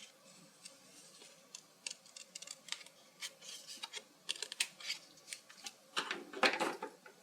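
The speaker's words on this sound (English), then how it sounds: "trace around with the scissors" Scissors snipping and cutting through cardstock along a traced line during card making, a quiet irregular series of crisp clicks and short snips that grow louder toward the end.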